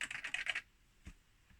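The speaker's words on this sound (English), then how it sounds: "it's quite a nice keyboard. It's quite a nice action on it. It's got fairly good keys" Quick burst of about half a dozen light clicking keystrokes on an Atari 520ST computer keyboard, close and clear, then a single soft thump before quiet.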